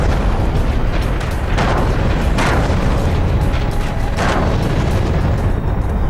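Aerial bombardment in Iraq during fighting with ISIS produces loud, continuous rumbling blasts, with several heavy booms rolling in over a constant roar and no talk.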